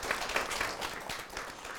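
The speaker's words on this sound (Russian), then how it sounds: "Аплодисменты Марату." An audience at a debate-club semifinal applauds steadily, a dense patter of many hands clapping throughout without a break.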